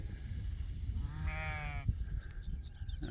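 A single sheep bleats at moderate distance for about a second, a wavering tonal call rising above steady low rumble and wind on a farm kept with a mixed flock and dog.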